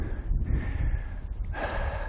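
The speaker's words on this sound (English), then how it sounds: "you can hear my heavy breathing" Heavy, labored breathing of a hiker climbing uphill on a wild-camping trek in the Brecon Beacons near Llyn y Fan Fach, close to the mic with outdoor noise behind it, rising into a sharper gasp near the end.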